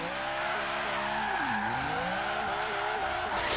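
Tires skid and squeal as a race car slides on the handbrake at full power in a racing video game with a Mountain Dew car pack, the engine droning steadily underneath a continuous, wavering screech.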